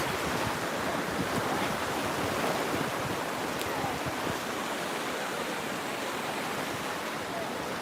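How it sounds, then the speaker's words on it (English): Gulf surf at Siesta Key Beach, a continuous broad wash of breaking waves with some wind buffeting the microphone, steady and fairly loud with no distinct voices. "We're here in the Gulf of America, Siesta Key Beach."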